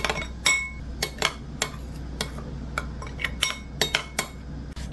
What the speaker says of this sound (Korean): 고춧가루도 한 큰술 넣어서 잘 섞어요.